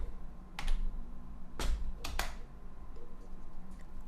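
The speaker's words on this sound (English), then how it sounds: "I type in height," Keys on a computer keyboard are pressed in a few scattered, sharp clicks, close by and fairly quiet, against a low steady background hum.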